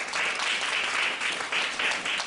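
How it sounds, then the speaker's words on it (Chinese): A church congregation applauds during a sermon: a short burst of dense, steady clapping at moderate volume, with no speech over it. "我们给他们掌声鼓励好吗"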